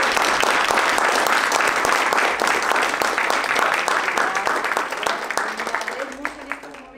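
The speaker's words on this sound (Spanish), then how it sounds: "se han ganado un aplauso muy fuerte" A large audience at a professional education forum breaks into loud, sustained applause, a dense steady roar of clapping that gradually thins toward the end as a voice begins to speak.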